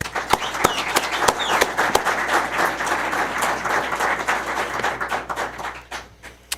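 Applause at a county commissioners board meeting honoring a retiree, a close, lively spread of many hands clapping with sharp individual claps standing out, continuing steadily throughout.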